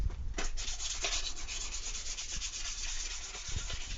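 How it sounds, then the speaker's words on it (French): Steady abrasive rubbing of sanding metal parts before painting, a continuous scratchy hiss with small rhythmic strokes, close and fairly quiet. "Là, dans ce cas-là, on va juste poncer un petit peu histoire d'avoir de l'accroche."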